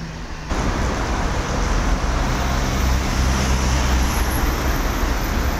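Steady, loud roar of night street traffic in Rome, with buses and cars rumbling past continuously and closely, no voices.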